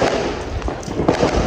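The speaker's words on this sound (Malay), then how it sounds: "mereka tengah duk berlawan bunga api guys." Hari Raya Aidilfitri fireworks in Kedah boom and crackle in the distance, overlapping bursts over a dense background rumble, with no clear talk.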